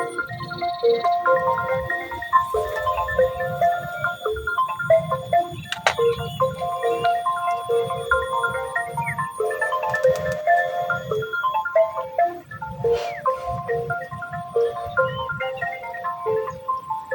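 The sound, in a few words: mobile phone ringtone ringing unanswered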